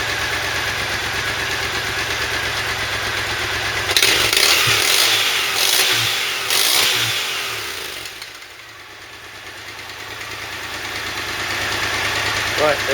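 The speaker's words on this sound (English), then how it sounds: "Finally, we'll do a maximum test, maximum revs." A Triumph motorcycle engine is held at high revs in a garage, a loud continuous drone with a surge and dip partway through, then a steady hum returning toward the end.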